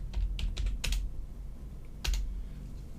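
Quick bursts of typing on a computer keyboard while a folder name is entered, a few clustered key clicks then a pause and another short burst, close and clear over a low background hum.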